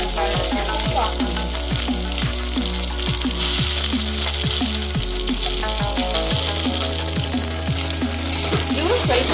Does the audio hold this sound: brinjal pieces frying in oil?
yes